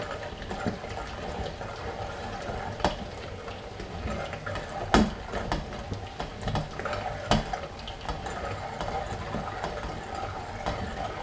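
A food mill is cranked to strain soft cooked tomatoes and peppers for hot sauce, making a steady close grinding and scraping churn with occasional metallic clicks and knocks, no talking.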